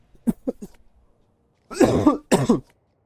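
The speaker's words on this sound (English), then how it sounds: "if I could fight this cough right now with my own two fists" A man coughing close to the microphone: three short light coughs, a pause, then two heavier, rasping coughs.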